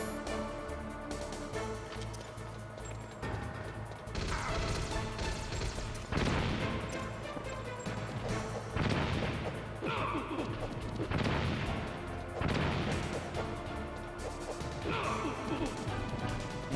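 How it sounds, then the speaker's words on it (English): Flashbangs in the PS1 game Metal Gear Solid go off in a rapid series of about six booming bursts, each a crashing blast that decays briefly, over a layer of game music and a voice talking. "Maxing out the flashbangs."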